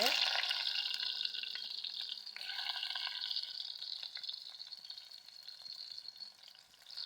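Onions sizzle steadily in a hot pan at the start of a village-style soya meat curry, a dense, bright hiss that holds fairly even with slight stirring ripples throughout, no voices present.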